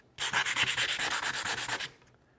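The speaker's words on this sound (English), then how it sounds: "we're gonna scratch them all and see where we uh, get the best results" Sandpaper is scraped hard across laminate flooring samples in a garage. About a dozen quick, even rasping strokes sound up close over two seconds, then stop.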